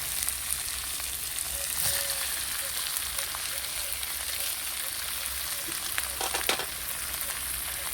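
Pointed gourd tossed into a pan of spice paste and potatoes for a prawn curry gives a steady, close, dense sizzle throughout, with a few sharp spatula scrapes and clicks near the end. No one talks.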